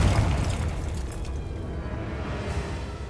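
A Confringo fire-blast spell goes off in Hogwarts Legacy: a heavy booming explosion that opens loud and rolls on as a dense, rumbling roar that slowly eases off.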